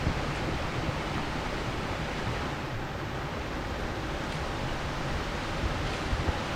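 Goto Falls in Sasaguri, Japan, gives a steady, dense rush of falling water that stays even and unbroken throughout, with no voices.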